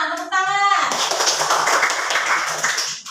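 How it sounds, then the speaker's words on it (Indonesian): A classroom of students claps hands together in a burst of quick, overlapping claps that follows a brief spoken voice, lasting a couple of seconds before fading out. "tepuk tangan"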